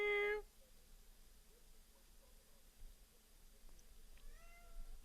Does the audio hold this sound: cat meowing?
yes